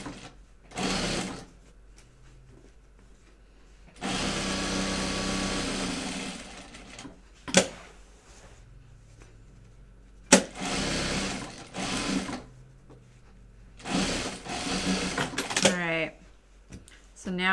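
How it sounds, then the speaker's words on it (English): Sewing machine top stitching the gusset of a prototype bag, running in several short bursts of rapid mechanical stitching separated by pauses, close by, with a person talking between runs. "now we're going to top stitch this one down because it's the easy one"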